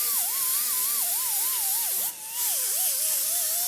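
A grinder smoothing welds in the rusted spare tire well of a 1965 VW Beetle during metal repair: a loud, continuous close-up hissing whine with a wavering pitch and a brief dip halfway through.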